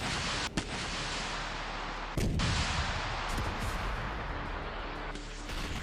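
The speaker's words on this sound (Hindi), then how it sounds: "धूल और धुएं का गुबार है और रुक रुक कर धमाकों की आवाजें आ रही हैं।" Explosions in war-torn Gaza amid dust and smoke, heard from a distance as dull booms over a constant roar of rumbling noise, with one sharp thud early and a heavier blast a couple of seconds in.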